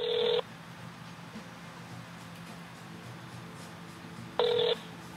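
A telephone dials out to call guests, with two short electronic tone bursts separated by several seconds of quiet line hiss, each one clear and close.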